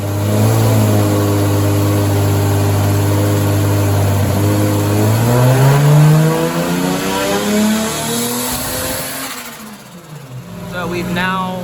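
A Toyota 1JZ/2JZ engine with a fuel pressure drop problem revs up from idle toward full throttle, the pitch climbing steadily, then falls back. It is loud and close throughout, and a voice talks over it.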